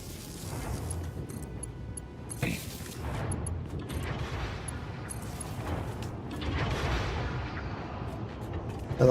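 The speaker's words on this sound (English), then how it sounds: "I love just hearing machines turn on. You just hear this like loud thump." Machines in the factory game Satisfactory start up with heavy thumps, several deep booms over a steady low industrial rumble, the loudest one coming right at the end.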